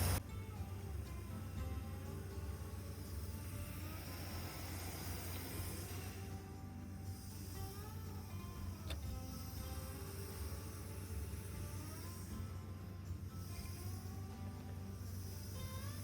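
A Dodge D350 truck with a 318 industrial engine runs steadily, its low rumble and hum holding constant for the whole stretch, with faint ticking over the top and no voices.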